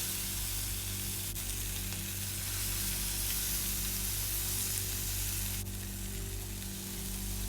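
Paneer tikka skewers sizzle in ghee on a heated ribbed pan, a steady dense hiss at moderate level with a low hum underneath and no talking.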